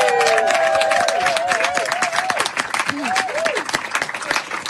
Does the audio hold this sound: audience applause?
yes